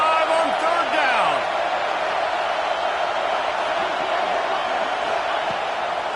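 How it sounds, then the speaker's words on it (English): Ohio State Buckeye football crowd roaring on third down, a loud sustained stadium din filling the whole stretch with a brief whoop near the start, under a commentator's voice. "The Buckeye crowd alive on 3rd down."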